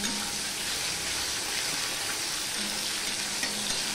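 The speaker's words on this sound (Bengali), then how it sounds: "টমেটোটা দিয়ে আমি মিনিট খানিক নেড়ে নিলাম, দেখি টমেটোটা নরম হয়েছে কিনা।" Tomatoes fry in a pan for a vegetarian dal, giving a dense, even hiss of cooking that stays steady and close throughout, with no voices over it.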